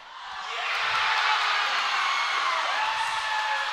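At a college volleyball match between Iowa and SEMO, a crowd cheers after an ace serve. The cheer swells in within the first second into a broad, sustained roar that holds steady and stays fairly distant.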